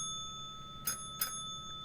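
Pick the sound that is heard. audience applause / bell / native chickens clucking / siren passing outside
bell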